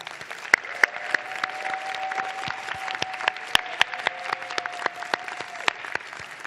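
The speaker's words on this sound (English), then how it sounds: "Let's give them a round of applause." Applause from a law school pre-commencement hooding ceremony audience, sharp individual claps popping out of a moderate crowd, with a faint sustained tone running beneath.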